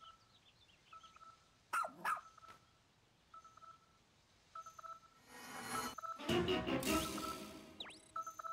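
A small rescue pup dog in Pikmin 4 gives a few short, sharp barks amid beeping, tone-like game effects, followed by a louder burst of bright noisy game sounds near the end.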